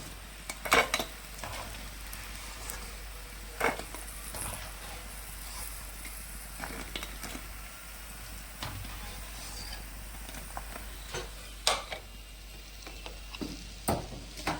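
Ingredients frying in a pan, giving a faint, continuous low sizzle and crackle with a few sharp utensil clicks against the cookware.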